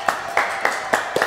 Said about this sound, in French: Puis on va les applaudir quand même.